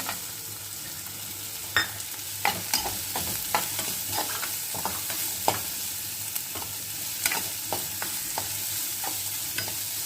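Onions fry until golden in a pan for a veg momo filling, giving a soft, continuous sizzle broken by scattered scrapes and taps of a stirring spoon.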